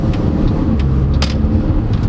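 A 2009 Mercedes-Benz C200 Kompressor's engine revs steadily under full throttle, a loud continuous drone heard from inside the car with a few faint ticks on top.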